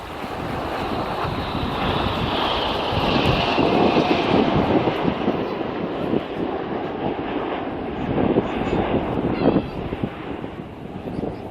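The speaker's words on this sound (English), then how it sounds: "The Royal Air Force Typhoon team." A Royal Air Force Typhoon jet roars past during an air festival display over the coast at Bournemouth, a loud sustained rushing roar swelling and fading, mixed with wind buffeting the microphone.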